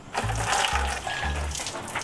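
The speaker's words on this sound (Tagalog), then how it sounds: "siguraduhin nyo lang na yung binubuhos ng tubig, sumushoot din dito" Water pours and gushes into a washing machine drum in short bursts, close and steady over a couple of seconds, with no talking.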